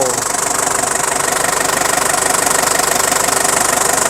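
A 2004 Isuzu D-Max with a 3.0-litre turbo diesel engine idles loudly and close by, a steady, rapid diesel clatter with an even pulsing rhythm throughout.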